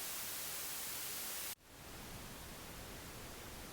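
Pink noise from a Somnideck sleep device, a softer, darker steady hiss with the high end rolled off, follows a brighter hiss after a short dip and continues evenly to the end without talk.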